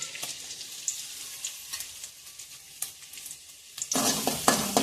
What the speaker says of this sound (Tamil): பூண்டு லைட்டாக பூண்டு லைட்டாக வதக்கிக்கோங்க